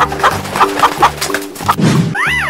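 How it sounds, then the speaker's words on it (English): Rapid clucking from a chicken, several quick clucks in a row, close and clear, ending with a short squawk and a chime-like tone. "Chicken."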